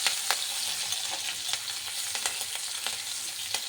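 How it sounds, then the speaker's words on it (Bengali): Chopped green chilli and ginger fry in hot oil, a continuous close crackling sizzle with scattered sharp pops and light stirring scrapes, no voices. "ভালো করে লঙ্কা আদাটাকে একটু ভেজে নিচ্ছি"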